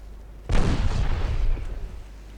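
A single heavy boom of naval gunfire from warships in Ultimate Admiral Dreadnoughts, a sudden loud blast with a rumbling low tail fading over about a second.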